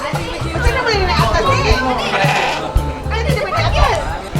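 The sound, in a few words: sheep bleating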